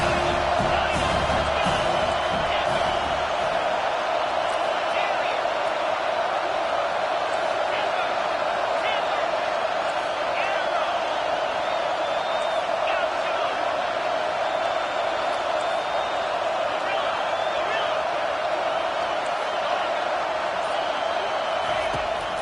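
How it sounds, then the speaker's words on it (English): A college football stadium crowd roars steadily as fans back the defense on third down, a loud, continuous wall of noise holding its level with whistling and yelling on top. "Decibels rising as the crowd gets behind this defense on third down."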